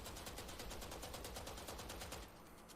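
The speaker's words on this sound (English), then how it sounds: "So I'm gonna shoot this wall and FPS is gonna drop down." Rapid automatic gunfire in the game Valorant, sprayed into a wall on the Split map: a dense, steady burst of shots that runs loud and continuous for over two seconds, then stops abruptly.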